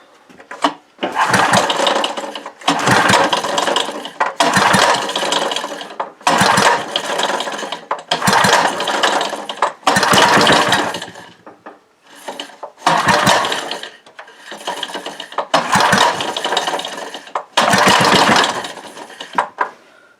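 A 1975 5HP Briggs & Stratton small engine being pull-started, with about nine loud rhythmic bursts of recoil-cord ratcheting and engine cranking, each separated by brief pauses, close up and with no talk.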